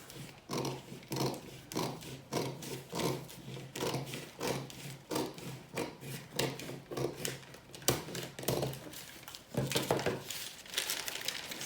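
Scissors cutting out a fabric piece for a milkmaid dress pattern give repeated close snips and crinkling fabric rustles in an uneven rhythm, with no voices heard.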